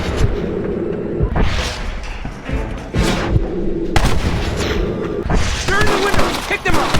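A loud gunfight in Red Dead Redemption rattles with repeated rifle and pistol shots and heavy bursts, close and dense throughout, mixed with shouting voices.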